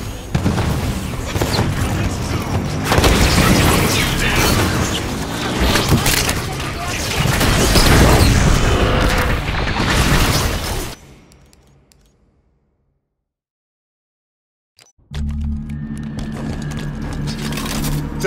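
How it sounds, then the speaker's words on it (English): Launcher explosions in the video game Halo 5 on legendary difficulty, dense loud booms and blasts layered with combat noise, then a short silence before low game rumble resumes. "Going heavy with the launcher."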